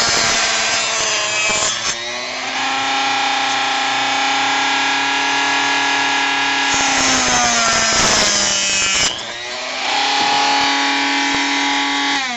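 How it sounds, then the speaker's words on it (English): A Harbor Freight rotary tool runs continuously with a loud, high-pitched whine that dips and rises in pitch as the load changes, holding steady for most of the stretch with no talk. "How do you like my Harbor Freight Dremel?"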